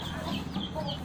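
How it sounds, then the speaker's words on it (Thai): Backyard chickens and chicks in a simple home pen cluck softly and continuously at a moderate distance, with a low farmyard background and no talking. "ลูกไก่เขาไม่ได้ขังอะไรดีนะครับ"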